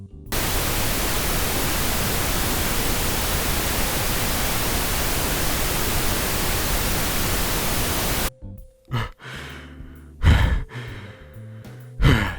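A man imitates pink noise with his mouth, a steady broadband hiss held for about eight seconds, then breaks off into breaths and gasps.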